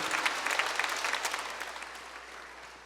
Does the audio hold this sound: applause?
yes